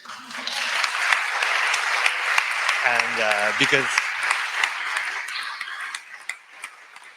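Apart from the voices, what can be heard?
applause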